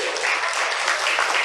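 Church congregation applauding, a brief burst of steady, dense clapping at moderate level filling the whole moment.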